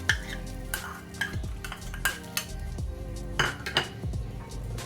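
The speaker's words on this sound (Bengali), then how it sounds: "একটু নাড়াচাড়া করে নিতে হবে।" Chopped onion stirred in a pan of hot oil with bay leaf, cinnamon, cardamom and peppercorns for egg handi: repeated close scrapes and metallic clinks of a spoon against the pan, a soft sizzle running underneath.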